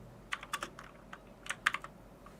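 Keys clack on a computer keyboard in short bursts of typing, close and fairly quiet, with brief pauses between clusters of keystrokes and no talking.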